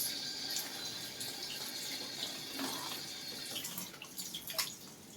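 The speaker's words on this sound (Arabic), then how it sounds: "هتجيبي الرقاق عادي كده تحت الحنفيه كده بالراحه خالص" Kitchen tap water running gently over thin rice pastry sheets, a soft continuous splashing trickle with small drips and spatters, close but quiet.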